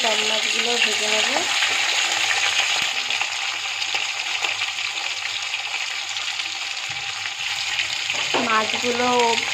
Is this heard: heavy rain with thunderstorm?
no